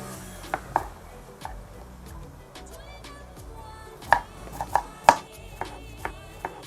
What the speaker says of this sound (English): Now we are going to chop our cucumber.